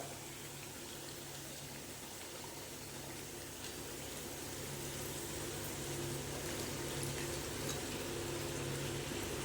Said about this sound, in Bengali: এইবারে দিয়ে দেবো জল